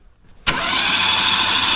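A tractor starter turns over an engine with its spark plugs removed, kicking in abruptly after near silence and then holding a loud, steady whirring drone with no firing or compression pulses.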